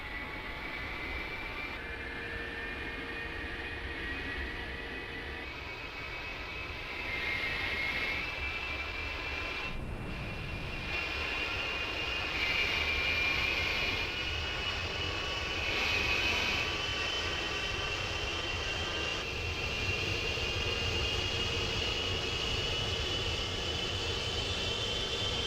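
Jet engine of the Hawker Hunter spooling up in a DCS flight simulator after a cartridge start, a steady whining roar with rising tones held for the whole stretch, no voices over it.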